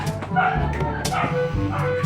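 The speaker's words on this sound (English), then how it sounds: "So I'm sorry for that barking dog." A dog lets out several yappy barks and whimpery yips close by, repeating through the moment, with a voice mixed in among them.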